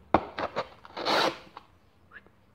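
A small, sharp knife blade slicing through a piece of cardboard: a few short rasping strokes, then a longer, louder scraping cut, near and alone with no talk.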